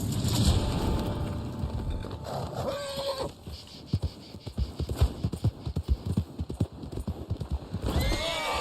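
Horse hooves pounding in the Red Dead Online video game, a fast rhythmic gallop of clip-clops with a whinny early on, loud and close, with no talking.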